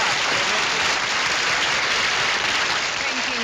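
Studio audience applause on a comedy variety show, a dense, even roar of clapping that holds steady and loud throughout.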